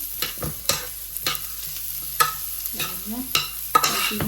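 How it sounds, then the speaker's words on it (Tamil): Chopped plums being stirred into a poondi laddu mixture in a pan, a handful of distinct utensil scrapes and knocks against the pan over a faint low sizzle, close and unhurried. "பிளம்ஸையும் போட்டு மிக்ஸ் பண்ணிடுவோம்"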